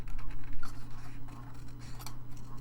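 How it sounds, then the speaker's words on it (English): Scissors snipping steadily around a paper craft piece for a 3D picnic basket folio, a soft close crackle and scratch of blades through paper over a low steady hum, with no talking. "So we'll just fussy cut this."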